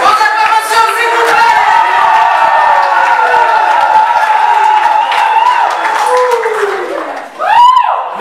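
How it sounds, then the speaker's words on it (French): Guests at a Gabonese civil wedding cheer and applaud steadily for several seconds, a dense wash of clapping and shouting that dips briefly near the end before a final swell. "Mesdames et messieurs, est-ce que vous pouvez acclamer s'il vous plaît?"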